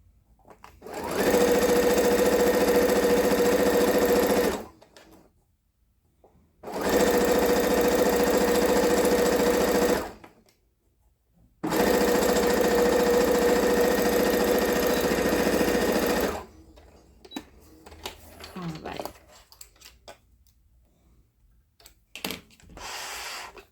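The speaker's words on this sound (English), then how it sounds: "This is very silky, so it is a little bit harder to go through the machine." A sewing machine stitches slippery, silky scrap fabric in three long, loud bursts of fast, even whirring, separated by short pauses, then quieter handling noises.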